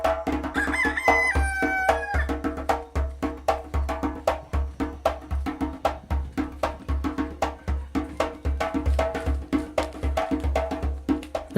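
Chickens and a rooster in a village in Senegal, a crow rising early on over faint clucking, set against a steady, loud rhythmic pounding that goes on throughout.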